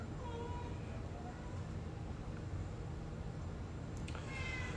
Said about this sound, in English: I'm hearing a lot of meowing and crying coming up from over here.